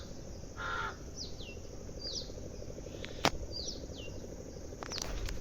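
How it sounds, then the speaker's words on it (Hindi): Several crows caw one after another outdoors in the Himachal hills, fairly faint and spread apart, over a steady drone of crickets with a brief sharp knock partway through. "कौवे ना रोज रोज कहाँ कहाँ करते रहते हैं"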